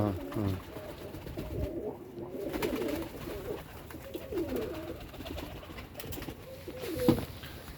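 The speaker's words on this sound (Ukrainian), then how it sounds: "Голубочка моя мраморна." Marble pigeons cooing in low, repeated rolling calls close by, with people talking over and around them throughout.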